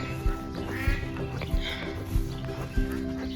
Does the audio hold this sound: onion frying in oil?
no